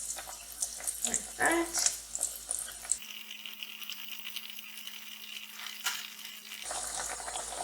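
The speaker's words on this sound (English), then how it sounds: "into this hot oil, I'm going to drop my eggplant slice and I'm going to fry" A slice of eggplant sizzles in hot oil, a steady close-up hiss and crackle with small irregular pops, and a voice speaks briefly near the start.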